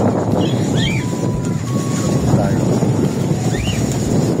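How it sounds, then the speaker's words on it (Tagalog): Steady wind roars outdoors at a pet market in Obando, buffeting the microphone in a constant rumbling wash, with faint bird chirps and distant sounds barely audible underneath. "Mahangin sa labas."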